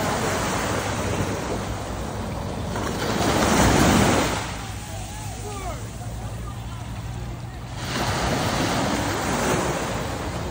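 Sea waves breaking on Port Dickson beach in Malaysia at nightfall, a steady surf wash that swells louder twice as breakers roll in, with wind rumble on the microphone and faint voices in the background.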